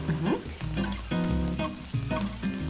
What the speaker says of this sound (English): you want that nice low sizzle